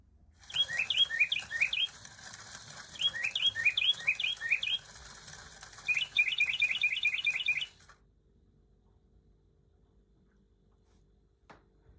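A battery-powered toy parrot makes electronic chirping bird calls in rapid trilled bursts, three groups over several seconds, fairly loud and close, then silence with a faint click.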